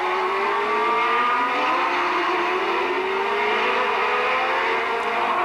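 Formula 3000 race cars in a 1990 race shriek at high revs, with engine pitch sliding as drivers brake and downshift while overtaking. The sound is loud, continuous and without talk.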